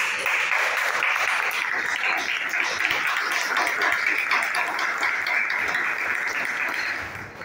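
Audience applause at a direct selling business basic training session, steady dense clapping from a roomful of people lasting several seconds before fading at the end.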